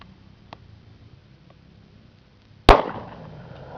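A single sharp, loud report from a .40 caliber handgun fired outdoors, a sudden crack with a lingering tail of echo after a few seconds of quiet, faint background noise.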